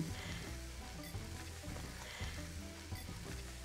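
Vegetables seasoned with a little salt sizzle softly in a pan, a faint steady frying hiss with a few light clicks, no voices over it.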